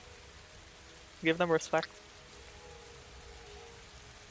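Night rain falls as a soft, steady hiss, constant and even throughout, with a person briefly speaking over it partway through.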